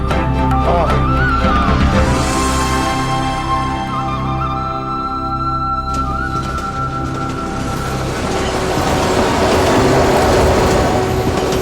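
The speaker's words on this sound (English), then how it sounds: "Another train leaves the station" An Indian hill railway train on the Kalka–Shimla line pulls out of a station, loud and close, with a sustained mechanical drone, squealing metallic tones and rising rattling clatter as it gets moving.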